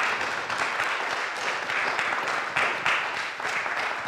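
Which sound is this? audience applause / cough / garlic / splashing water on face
audience applause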